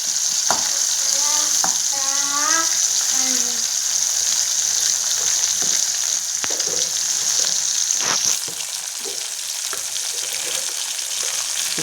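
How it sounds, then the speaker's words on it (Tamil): Small shallot-type onions fry in a pan with a loud, continuous sizzle; a brief voice-like murmur sounds early on, and a few sharp clinks of stirring come before the hiss eases slightly. "ஒரு கொத்து சின்ன வெங்காயம். வெங்காயம் நல்லா பொன்னிறமாக வதங்கணும்."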